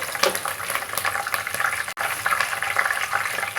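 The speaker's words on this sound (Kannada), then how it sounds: "ಇದಕ್ಕೆ ನಾನು ಕರಿಬೇವಿನ ಸೊಪ್ಪನ್ನ ಹಾಕೋತಾ ಇದ್ದೀನಿ ಶೇಂಗಾ ಚೆನ್ನಾಗಿ ಫ್ರೈ ಆಗಿದೆ" Curry leaves and peanuts fry in oil in a pan for a cabbage pulao, giving a steady bright crackle and sputter with a brief dropout midway, with no talk over it.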